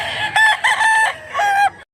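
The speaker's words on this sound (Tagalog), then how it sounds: "Manok ni Busing guys, 2008" A fighting rooster crows once at a cockfighting event in Mantalongon, Cebu, close and loud, a strained, wavering call lasting under two seconds.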